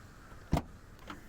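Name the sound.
Hyundai Venue SX tailgate opening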